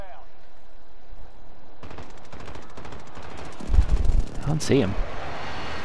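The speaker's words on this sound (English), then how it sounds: "Okay, I put an airstrike in." Rapid automatic gunfire and heavy blasts from an airstrike in the shooter game Call of Duty: Modern Warfare rattle on steadily. A deeper rumbling impact swells midway, and a voice speaks briefly over the combat.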